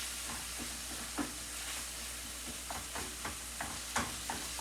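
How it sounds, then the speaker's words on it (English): Pork chops fry in a stovetop pan with a steady sizzle, and a few sharp pops and crackles break through it every second or so. "all I'm doing is frying up some pork chops and making a quick stovetop stuffing"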